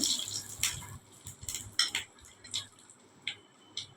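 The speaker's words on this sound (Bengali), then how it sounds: "ফোড়নটাকে একটু নেড়ে দিচ্ছি" Tempering spices, five-spice, dried red chillies and bay leaves, stirred in a pan for masoor dal, with a spatula scraping and clinking against the metal in irregular close taps and no talk.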